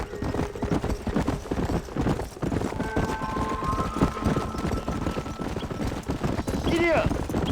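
Horse hooves clip-clop at a steady gallop through the Red Dead Redemption video game, a continuous rhythmic drumming with a brief whinny near the end and game characters talking over it.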